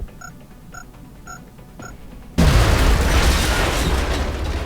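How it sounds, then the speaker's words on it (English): A grenade blast in the strategy game XCOM: War Within hits suddenly after a few quiet beeping tones, a loud close boom that gives way to a long rumbling, crackling tail of debris. "Let's chuck the nade here,"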